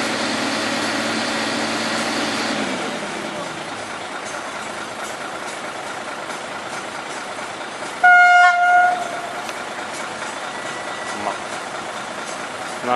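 A train passes the Via Martiniello level crossing in Nola: a loud rolling rumble fades out over the first few seconds, and a single short horn blast follows later.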